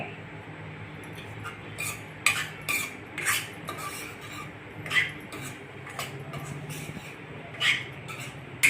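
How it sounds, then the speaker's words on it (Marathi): A spoon scrapes and clinks against a pan as semolina roasts in ghee, giving irregular light metallic taps and scrapes over a quiet, soft sizzling background. "तूप घालून खरपूस भाजून घेणे"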